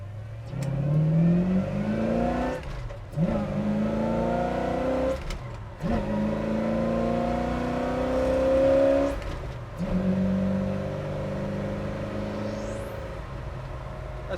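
A 1966 Chevrolet Chevelle Malibu engine accelerates hard on the road, rising in pitch through several gears with brief drops at each shift, loud and close inside the car.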